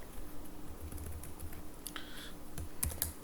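Code being typed on a computer keyboard, with soft, quick key clicks in irregular bursts, close and fairly quiet over a faint room hum, with no one speaking.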